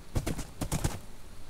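Hooves clip-clop from a horse in the Minecraft video game, a quick cluster of a few sharp, close taps over a faint background.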